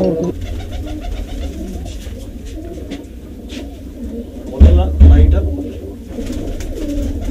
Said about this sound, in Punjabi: ਇਹ ਕਬੂਤਰ ਜੀ